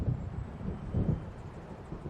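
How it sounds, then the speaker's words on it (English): Low thunder of an approaching storm in the video game Alan Wake Remastered rumbles steadily with a few swelling rolls, broad and heavy, alone without speech. "It seems there's a storm coming."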